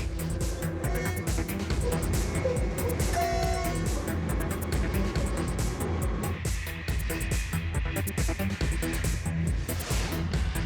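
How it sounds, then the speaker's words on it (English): A passenger train on the short run between Meknes and Fez in Morocco rolls along at speed, with a dense, steady rumble and rattle of wheels and carriage filling the space, a brief horn-like tone rising through it. "It's on this shortest ride that the train goes the fastest."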